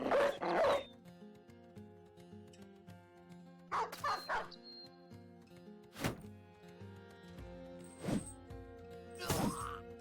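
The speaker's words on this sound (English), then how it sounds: "Release another dog." Dogs bark in short, sharp bursts at the start and again several times across the scene in the tactical game Battle Brothers, over a steady layered orchestral score with occasional dull thunks and yips.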